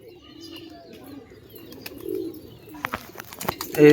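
Pigeons coo softly in short low murmurs at a home loft. Sharp clicks and scuffles break in toward the end, and a louder flutter or knock closes it.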